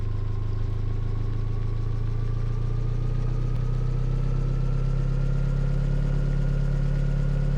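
An Ursus tractor engine idling steadily in Farming Simulator, a constant low rumbling drone with a faint rising whine, loud and unbroken throughout.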